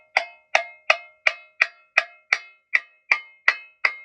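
A tamborim is struck eleven times in an even, steady rhythm, each hit a sharp, bright metallic crack with a short ringing decay, close and alone.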